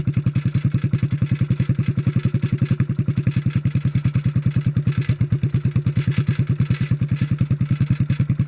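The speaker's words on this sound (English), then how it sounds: "That rattling noise is a loose baffle in the muffler." A 1957 Bolens tractor engine idles with a loose baffle in its muffler, a loud, rapid, even chugging rattle repeating steadily and close up for the whole stretch, with no voices.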